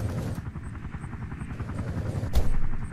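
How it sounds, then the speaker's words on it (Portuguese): Helicopter in the video game Life After, a continuous rapid rotor chop with engine drone, loud and close, swelling slightly with a thump near the end. "agora vamos pegar o helicóptero aqui pra gente poder estar indo lá pra área demarcada"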